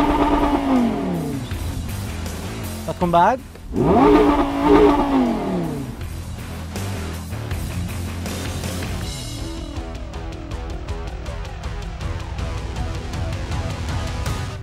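Lamborghini Gallardo with a 5.2-litre engine making around 550 horsepower, revved hard in repeated rising and falling bursts with a brief dip, then settling into a steadier rumbling idle; a voice speaks briefly.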